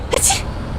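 A passenger in the Bus Simulator game lets out a single short, sharp sneeze. It is close and loud, and faint engine hum continues after it.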